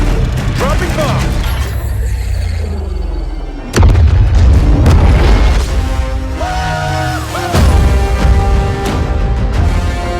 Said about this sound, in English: Dropping bomb.